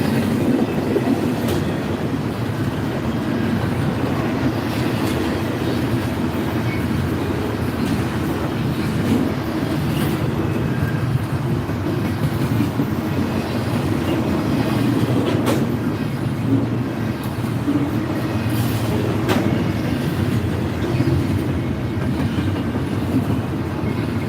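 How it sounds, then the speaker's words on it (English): A long intermodal freight train rolls past at Cook Road, a steady loud rumble of wagons with rhythmic clickety-clack of wheels over rail joints and occasional squeal, continuous for the full length with no talk. "A long intermodal here."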